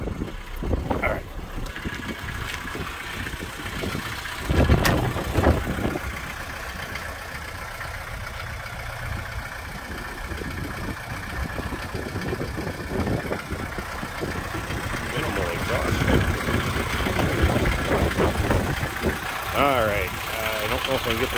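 A 1971 Mercedes-Benz 220D diesel sedan idles with a steady low rumble and knocking clatter, with someone talking over the engine throughout and occasional handling noises.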